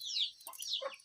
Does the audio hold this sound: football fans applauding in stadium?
no